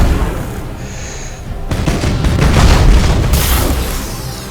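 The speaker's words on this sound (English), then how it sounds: "let's fire torpedoes on my map" Torpedo explosions in the space warfare game Battlefleet Gothic: Armada arrive as a loud, dense rumble of booms, with a sharper burst of crackle partway through and a sustained roar underneath.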